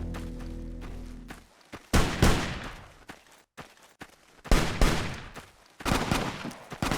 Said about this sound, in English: There's a gunfight happening down there.